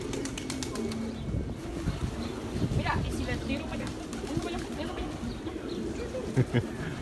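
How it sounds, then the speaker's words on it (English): Pigeons in Pigeon Park, Old San Juan, Puerto Rico coo softly in a low, rumbling murmur amid outdoor crowd ambience, with a few brief calls standing out near the end. "people come here just to feed the pigeons and enjoy the view"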